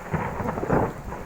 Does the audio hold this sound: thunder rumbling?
yes